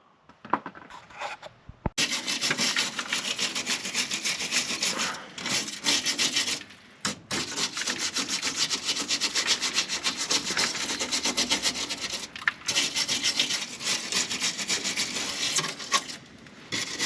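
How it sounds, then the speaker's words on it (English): Wire wheel brushes grind against Mercedes SLK parts during a restoration tear-down, a loud, continuous abrasive whir up close, broken by a few brief pauses between passes. "And we'll get in here with the wire wheel brushes and stuff."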